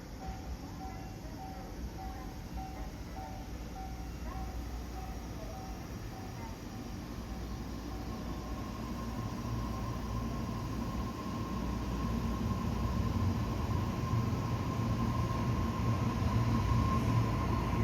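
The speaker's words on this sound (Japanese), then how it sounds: "2番線に各駅停車船橋行きが6両編成で参ります。" A Tobu 60000 series local train pulls in at Sakasai station on the Tobu Urban Park Line, a low rumble building steadily while a station chime and announcement play.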